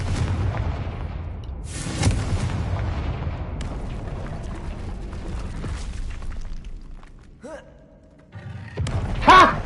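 Fiery blast spells from Hogwarts Legacy go off as loud booming thumps, a big burst near the start followed by rumbling, then a quieter stretch and another sharp explosive burst at the end.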